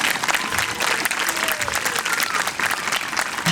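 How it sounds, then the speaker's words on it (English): Steady audience applause at a Native American festival, honoring a dancer, with dense clapping continuing at even loudness throughout and a few faint tonal sounds drifting beneath. "So the more applause that you give him"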